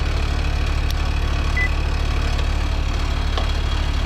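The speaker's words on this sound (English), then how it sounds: "So let's see what the fan motor is doing." An HVAC unit's fan motor runs steadily and close by, a continuous low hum with a buzzing tonal drone, and no talk.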